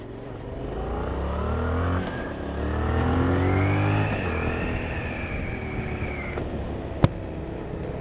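Yamaha MT-07 motorcycle engine idling and revving in rising and falling pitch sweeps, steady and fairly loud, with a sharp click near the end.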